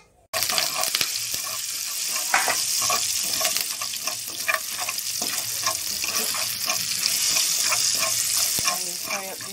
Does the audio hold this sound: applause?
no